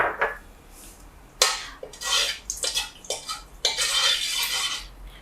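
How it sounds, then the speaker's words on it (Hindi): Whole cloves go into a pan of fried almonds while making sweet zarda rice: clinking and scraping of a metal spoon against the pan in several close, sharp bursts, with faint sizzling between. "अब मैं क्या करूँगी, इसमें मैं लौंग डाल दूँगी।"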